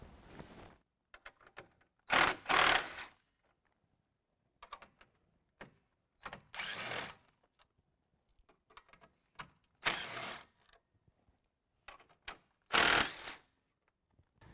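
Four 10mm bolts come out of the top of a 2017 Ram 1500 grille, heard as several loud, short bursts of a ratcheting tool separated by quiet gaps and soft handling clatter.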